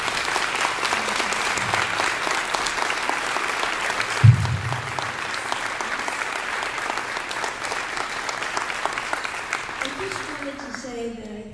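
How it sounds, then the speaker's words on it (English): Steady, dense applause from a high school winter concert audience fills the hall for about ten seconds, then thins out as a voice begins speaking at the end. "And if we could all please give Sheila a round of applause."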